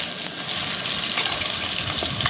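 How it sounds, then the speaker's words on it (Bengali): Chopped onion fries in hot oil, giving a steady, loud close-up sizzle and hiss that runs unbroken throughout, with no talking. "পেঁয়াজটাকে ভালো করে ভেজে নেবেন"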